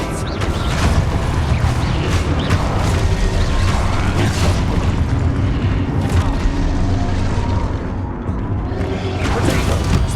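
Depulso force-push spell being cast in Hogwarts Legacy, a dense, loud blast of booming, rumbling game effects amid continuous combat noise, with a voice briefly speaking.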